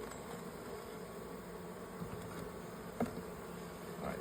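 Honey bees buzz continuously at a hive, a dense steady drone close up with a few brief louder passes.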